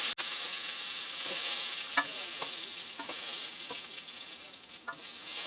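Beef pieces for a classic stew browning in a hot pan: a continuous close sizzle with a few light clinks and taps as the pieces are turned.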